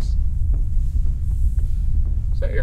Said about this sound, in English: Is that your heart beating?